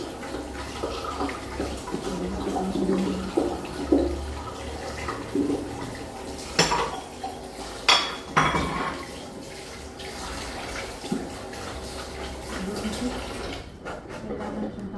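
Sliced tofu and vegetables being rinsed under running tap water, a moderate splashing flow with a few sharp knocks and handling clatters partway through, faint talk in the background.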